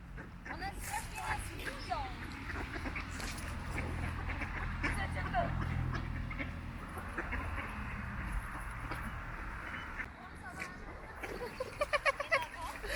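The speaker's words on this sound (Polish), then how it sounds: "Płynie za nami cała ławica kaczek." Ducks quack intermittently outdoors on a lake at a small farm zoo, mixed with people talking and some low background rumble, with a burst of quacking toward the end.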